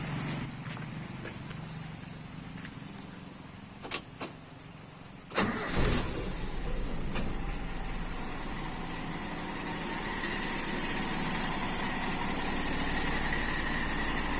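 A hot motorcycle engine idles steadily during a carburetor idle-mixture test; after a few sharp knocks and a start-up burst, a continuous low running drone holds close and fairly loud to the end.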